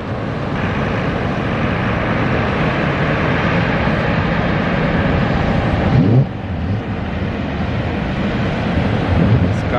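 Twin Suzuki 200 four-stroke outboards on an 8.3-meter Butt Cat boat warming up, a steady, loud, continuous drone throughout with a brief dip near the end.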